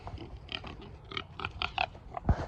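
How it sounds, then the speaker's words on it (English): A pig grunts and snuffles close by in a quick, irregular series of short oinks, ending in one deeper snort. "That's a pig."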